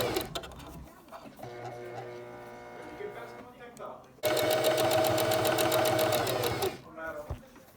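Sewing machine stitching through two layers of stretchy fabric for a face mask; a steady, rapid, loud mechanical chatter runs for about two and a half seconds, preceded by quieter handling and a voice.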